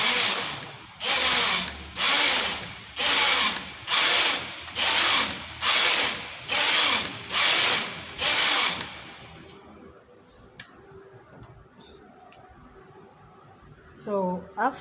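A knitting machine carriage is swept back and forth across the bed about nine times, each pass a loud, even whirring rasp, before it goes quiet with faint handling noises.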